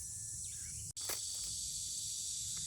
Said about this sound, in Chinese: 其实是刚刚我在地上捡的一个知了